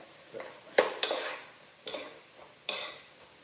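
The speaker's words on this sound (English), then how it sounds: "So keeping an eye on the onions, so saute this." Onions sautéing in a pan, with scrapes and clatters of a utensil stirring against the pan in sharp bursts over a soft sizzle, close and without talk.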